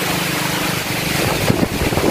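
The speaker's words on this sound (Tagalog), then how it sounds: "Grabe, malakas na talaga yung hangin." Strong typhoon wind during Typhoon Odette on Siargao roars loudly and continuously against the microphone, a dense, buffeting rush with gusty surges and no voices.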